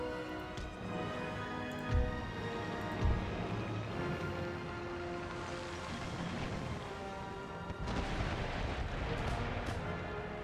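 Naval cannon broadside from sailing warships in Empire: Total War, a dense low rumble with distinct booming shots near the 2 and 3 second marks and a heavier barrage swelling toward the end, layered over steady battle noise.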